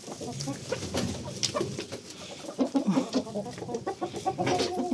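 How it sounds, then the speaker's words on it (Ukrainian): Hens clucking and murmuring as they eat their feed, a dense, busy chorus of soft clucks and short calls close by, with a faint voice now and then. "Їдять мої курки."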